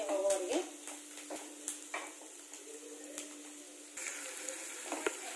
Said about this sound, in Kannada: ಒಂದು ನಿಮಿಷದವರೆಗೆ ಉಳ್ಳಾಗಡ್ಡಿನ ಚೆನ್ನಾಗಿ ಫ್ರೈ ಮಾಡ್ಕೊಳ್ಳೋಣ ಹಸಿ ವಾಸನೆ ಹೋಗೋವರೆಗೆ.